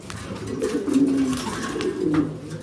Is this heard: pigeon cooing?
yes